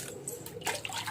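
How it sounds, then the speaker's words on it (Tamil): Thorny drumstick leaves being washed by hand in a vessel of water, with brief sloshing and splashing bursts, close and fairly quiet, no talking. "இதை நல்லா கழுவி சுத்தம் பண்ணிக்கலாம்."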